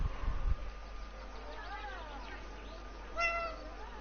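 A cat meows in 11-11: Memories Retold, a few short rising and falling cries, the clearest one near the end, with faint game ambience underneath.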